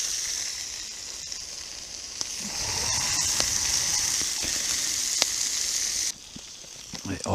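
Food sizzles steadily in a pan over an outdoor cooking fire in the woods, a continuous close crackling hiss that runs the whole time and drops slightly near the end.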